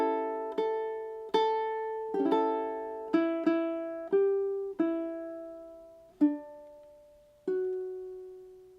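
A ukulele plays a bar of a song. About ten plucked notes and strums ring out at an unhurried, steady pace, each one clear and close with a quick decay, and nothing else can be heard.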